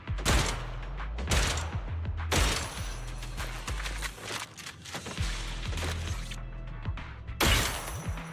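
Heavy sniper shots in Zenless Zone Zero, each aimed shot burning five bullets: several sharp, booming cracks spaced a second or more apart, loud and close, with softer game effects between them.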